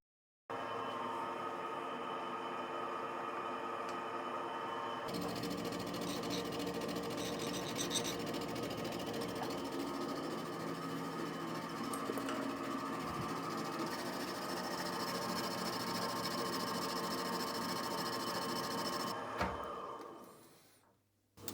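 A carbide insert mills the feet of a cast iron bench vise in an interrupted cut. A steady, dense machining drone runs on for about twenty seconds, then winds down and stops.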